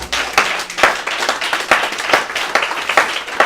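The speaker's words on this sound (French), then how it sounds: "Applaudissons Jésus." A church congregation claps along during a sermon, sharp loud claps in a fairly regular rhythm with several hands blending, close and lively.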